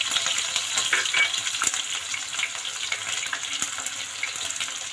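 Green chillies and curry leaves crackling in hot oil for a Kerala-style onion theeyal, a dense, bright hiss of frying that stays loud and continuous, with faint spatters and stirring taps close by.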